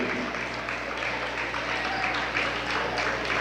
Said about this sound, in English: the crowd applauds their efforts